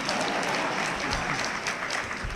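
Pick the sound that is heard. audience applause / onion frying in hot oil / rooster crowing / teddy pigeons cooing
audience applause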